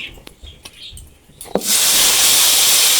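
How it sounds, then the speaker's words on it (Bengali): Potatoes dropped into hot frying oil set off a sudden loud hiss after a few quiet clinks and taps, and the hiss then holds steady and close to the end. "ভাজা তেলের মধ্যে আলুটা দিয়ে দেবো"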